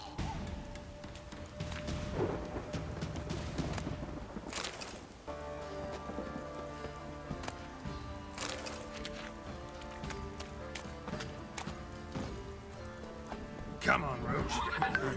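Roach, the horse in The Witcher 3, gallops with steady, rhythmic hoof clip-clops throughout, mixed with game music and thuds while voices talk over it.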